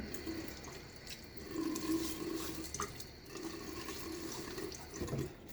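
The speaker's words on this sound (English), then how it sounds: "let's get my face wet" A bathroom tap runs in a steady, moderately quiet stream as water splashes while a face is wetted before shaving, with soft shifting splashes and no speech.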